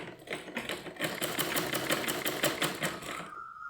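Sewing machine stitching the frill onto a petticoat, a rapid, even mechanical chatter of needle strokes running continuously at close range before stopping abruptly at the end.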